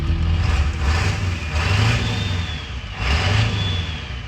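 An abandoned OBS Ford F250 pickup with the 7.3 diesel, running with its check engine light on, rumbles steadily close up, its engine note swelling briefly a couple of times, with no talking.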